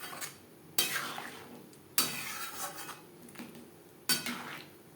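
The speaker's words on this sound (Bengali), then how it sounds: "ডালের সাথে পেঁপে বেশ ভালো করে মিক্স করে দেবো।" Thinly sliced papaya is stirred into masoor dal in a pot. A spoon strikes the pot in three sharp clanks, with softer scraping and a faint simmer between them.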